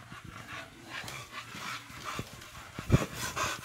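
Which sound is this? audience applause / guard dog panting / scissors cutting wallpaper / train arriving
guard dog panting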